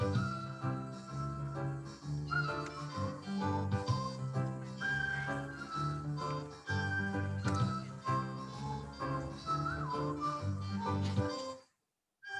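Someone whistles a tune over a musical accompaniment, with clear melodic pitches gliding between notes for several seconds before a brief silence.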